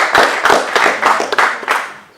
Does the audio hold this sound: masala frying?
no